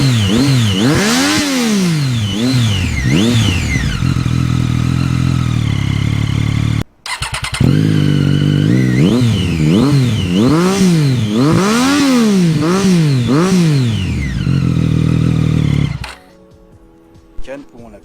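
A Triumph Street Triple with its exhaust baffle removed idles and is blipped repeatedly, rising and falling in loud, raspy revs up close before the engine cuts off.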